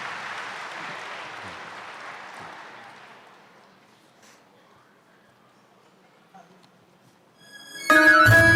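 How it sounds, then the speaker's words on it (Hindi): An audience at a welcome session in Indore claps loudly, the applause fading away over several seconds into near silence before a sudden burst of sound at the end. "जोरदार तालियों के साथ अपना स्वागत स्वीकार करें।"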